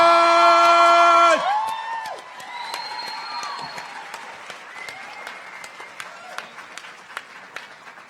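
A convention panel crowd applauds steadily with scattered cheers, following a brief sustained musical tone at the start; the clapping continues loudly and evenly throughout.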